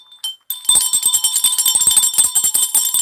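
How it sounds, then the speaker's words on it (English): A hand bell rings rapidly and loudly, a bright metallic tinkling with repeated strikes that keeps up for about two and a half seconds after a short pause, alone with no talk. "I gotta find my bell"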